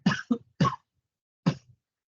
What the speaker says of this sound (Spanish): disculpen por favor la tos